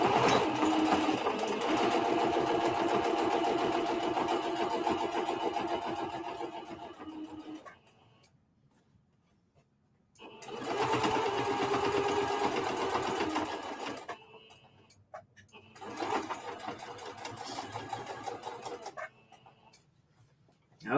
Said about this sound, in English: I want to make sure that it's lying flat as I sew.